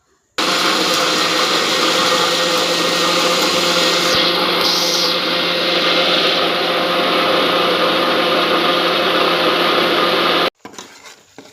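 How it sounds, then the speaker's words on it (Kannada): A mixer grinder runs loud and steady for about ten seconds, blending washed sambar greens with a little water into a smooth spinach masala, then switches off abruptly, leaving brief quieter clatter. "ನೈಸಾಗಿ ರುಬ್ಕೋಬೇಕು."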